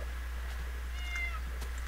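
A cat gives a short, fairly faint meow partway through, over a steady low hum, with no talking.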